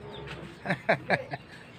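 Pigeons in a backyard loft give a few short cooing calls, four soft pulses in quick succession, moderately close, over quiet background murmur.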